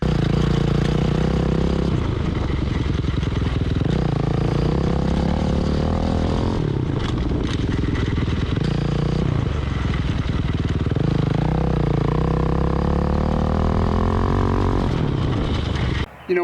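A dirt bike rides small circles in a tiny backyard, its engine droning loud and close, rising and falling with throttle as it turns, continuous throughout.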